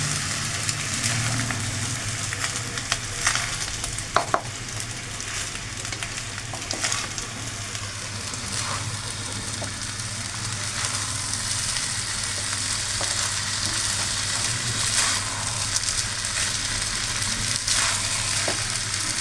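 Mixed fried rice being stirred slowly in a pan with green chili sauce over a gas flame: a steady low sizzle and hiss throughout, with occasional scattered scrapes and taps of a spatula, fairly quiet and without speech.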